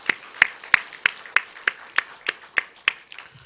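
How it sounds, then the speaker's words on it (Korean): A church congregation claps at a Sunday morning service, about a dozen sharp, evenly spaced claps in a steady rhythm, close and fairly loud, with no talking over them. "다시 한번 크게 영광의 박수 올리겠습니다."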